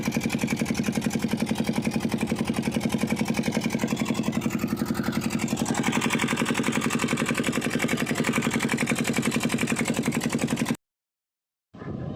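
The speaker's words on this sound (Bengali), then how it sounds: "এবার আমাদের নৌকা স্টার্ট হয়ে গেছে।" A motorboat crosses the fast-flowing Damodar river, its engine chugging in a steady, loud, even rhythm close by before cutting to silence shortly before the end.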